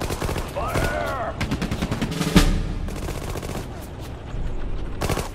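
Battle gunfire in the Sudden Strike 4 World War II strategy game, final Allied mission Operation Plunder: dense rattling machine-gun bursts and rifle shots with a heavy blast midway, under shouted soldier voices throughout.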